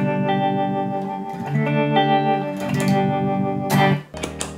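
A guitar runs through a Strymon Flint tremolo pedal, sustained chords pulsing and shimmering with effect, loud and close, moving through a few chord changes with no talking.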